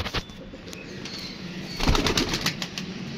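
Indian pigeons flap their wings in a short burst of fluttering near the middle, with a few soft flaps before it and outdoor background noise throughout.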